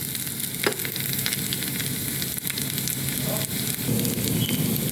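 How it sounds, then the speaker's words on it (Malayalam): Grated coconut roasting in a hot pan for a Kerala-style jackfruit erissery curry. It gives a steady, close sizzle with faint stirring scrapes running under it throughout, and no voices. "തേങ്ങ വറുത്ത് നല്ല മണം വരുന്നുണ്ട്."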